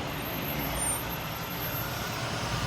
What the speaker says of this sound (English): You got semis, you got cars, you got motorcycles